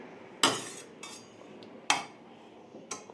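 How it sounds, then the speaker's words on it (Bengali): A mother serves rice onto a plate at home, producing three sharp clinks of a serving spoon against the dish, each followed by softer scraping, close and clear in a quiet room. "এই যে মা ভাত বেড়ে দিচ্ছে।"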